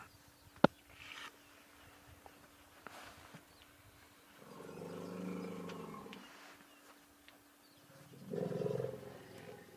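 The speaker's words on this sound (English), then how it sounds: "Little vocalization you may have heard was just the elephants chatting to one another" Elephants in a wild setting vocalize to one another with two low rumbling calls, one in the middle and a shorter one near the end, after faint sparse clicks and background ambience.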